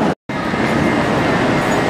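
A steady rumbling roar of a high-speed train at a station platform in China, continuous and fairly loud, broken once by a brief moment of silence near the start.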